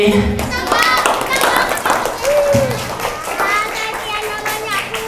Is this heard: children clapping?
yes